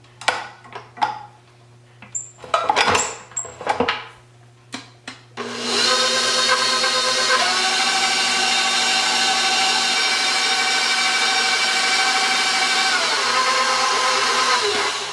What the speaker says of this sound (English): I'll put my attachment on and I'll mix this until it's nice and creamy.